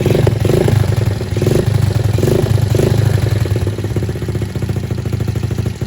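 A Honda XRM 110 motorcycle engine runs close and loud while warming up, a steady, pulsing idle with slight revving and rattling clatter.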